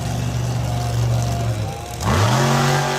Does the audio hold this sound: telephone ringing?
no